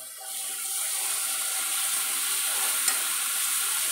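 Spices stirred into cooked vegetables for Maggi Manchurian in a hot pan make a continuous close hiss and sizzle with faint scraping underneath, steady throughout and with no speech.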